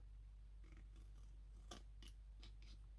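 Scissors snip off cardboard bits while a DIY chocolate gift box is being made, several crisp close cuts in an irregular rhythm over a steady low hum, no voices.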